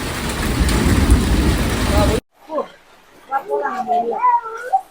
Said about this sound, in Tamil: மழை வருது மழை வருது நனையாதீங்க